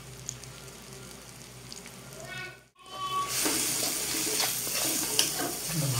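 Spiced egg-chop filling with coriander powder, cumin powder and salt fries in a pan, first as a soft steady sizzle, then after a brief break as a louder, brighter hiss with stirring scrapes, with faint speech underneath.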